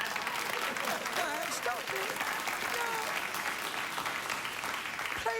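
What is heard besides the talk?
studio audience applauding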